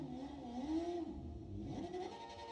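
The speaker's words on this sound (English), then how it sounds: "I can just keep burning that tyre up through the gears" A motorcycle in the racing game Ride 5 doing a tyre burnout, its engine revving up and down through the gears in a steady whine with rising and falling pitch, moderately quiet and continuous.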